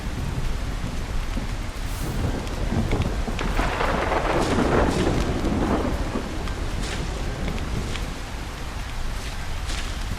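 A thunderstorm brings continuous heavy rain with a loud, sustained rolling rumble of thunder that swells in the middle and then settles back into the steady downpour.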